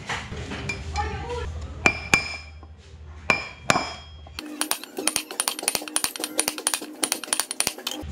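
Metal rings out with a few sharp hammer strikes, then a rapid run of repeated clanking blows as a hammer knocks out a Suzuki Raider 150 FI wheel bearing, close and loud.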